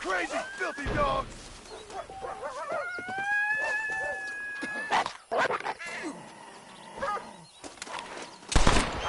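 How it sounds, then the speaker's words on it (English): Dogs in the Red Dead Redemption video game, with a few close howls and whimpers plus sharp barks, scattered over several seconds amid game noise and a voice. "You crazy, filthy dogs!"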